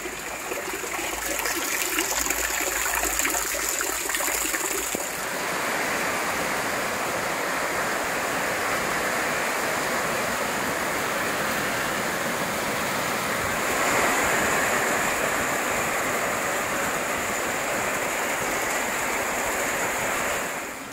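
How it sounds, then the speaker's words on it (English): Approaching rain makes a steady, dense rushing roar across an off-grid homestead, continuous and fairly loud throughout, with no voices. "I can already hear the rain coming. It's close."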